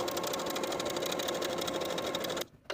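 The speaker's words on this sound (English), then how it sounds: "fold the sleeve hem along your pre-press line and stitch along those finishing stitches" A sewing machine stitches a sleeve hem on a raglan sleeve top, running in a steady, continuous whir close by for over two seconds before stopping abruptly near the end.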